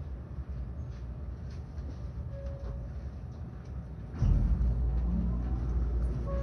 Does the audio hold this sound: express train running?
yes